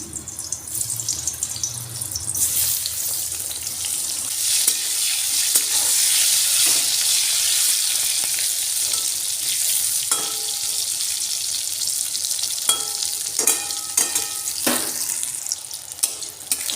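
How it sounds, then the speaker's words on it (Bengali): Salted, turmeric-coated eggplant fries in hot oil in a wok, giving off a steady, bright sizzle that fills the whole stretch, with a few light clinks of utensils near the end. "এই বেগুনটা প্রথমে ভেজে নেব"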